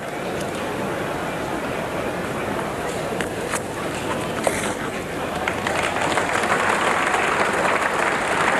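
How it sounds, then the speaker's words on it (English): A Test cricket crowd at Adelaide Oval claps for Allan Border reaching 7,000 Test runs against New Zealand in 1987, broad distant applause that swells in the second half while a commentator talks over it. "And I don't think Alan Border knew what all the clapping was all about then"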